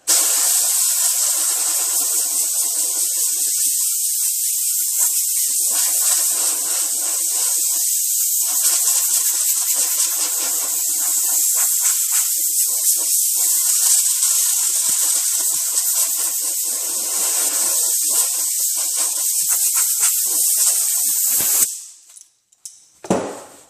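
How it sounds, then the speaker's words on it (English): Compressed air blasts dust off a 2004 Mini Cooper S rear bumper under repair, a steady loud hiss running nearly unbroken for about twenty seconds before cutting off abruptly. "I'm going to blow it off, get all the dust out I possibly can."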